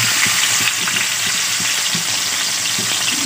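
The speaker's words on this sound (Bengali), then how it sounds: "এটা খুব ভালো মতো তেলে ব্রাউন কালার করে ভেজে নেব।" Oil sizzles and crackles steadily in a hot wok as spices and eggplant for a curry fry, with small stirring clicks and taps scattered through the close, constant hiss.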